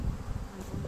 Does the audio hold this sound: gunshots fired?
no